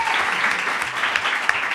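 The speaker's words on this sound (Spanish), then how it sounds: "Eso merece un aplauso" Dense, steady studio-audience applause on a Spanish television program, filling the whole short burst with no speech over it.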